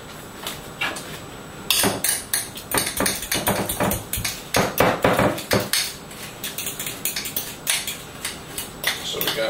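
A spoon beats herb butter with lemon zest in a bowl, making a quick run of close, sharp clinks and taps that goes on without a break after a short lull at the start.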